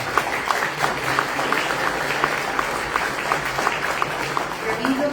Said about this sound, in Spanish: Camilo, por favor, un aplauso.